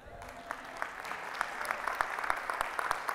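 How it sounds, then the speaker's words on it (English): Audience applause at a real estate mastermind event in Puerto Rico, a moderate, fairly distant patter of many hands with scattered sharper claps, steady throughout. "You guys can clap at that, by the way."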